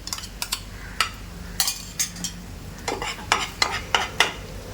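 Butter goes onto bread ka meetha in a pan, giving soft scattered crackles of sizzling along with light scraping and tapping of a utensil against the pan, fairly quiet and with no talking.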